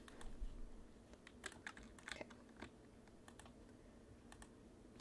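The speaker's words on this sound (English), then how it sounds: "clicky keyboard" Quiet typing on a clicky computer keyboard, irregular sharp key clicks in short bursts with pauses, close and faint.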